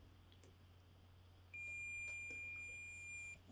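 Electrical continuity tester beeping on a power-supply check: a steady high-pitched electronic tone that sounds for about two seconds over a low hum, quiet and close, with no speech.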